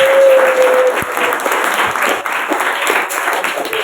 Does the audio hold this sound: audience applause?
yes